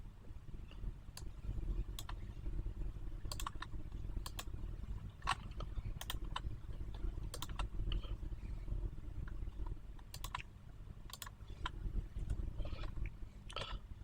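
Scattered, faint keystrokes on a computer keyboard, isolated clicks spaced irregularly over a low, constant background hum.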